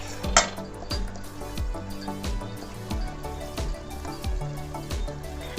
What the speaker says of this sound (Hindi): ये जो टमाटर की हमने अदरक, हरी मिर्ची और टमाटर का जो पेस्ट बनाया ना, इसको भी हम इसमें डाल देंगे।